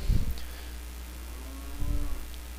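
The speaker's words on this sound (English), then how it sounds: "Is that a cow?" A cow in The Legend of Zelda: Majora's Mask lets out two low moos, one right at the start and a second near the end, with a steady hum under them and no talking.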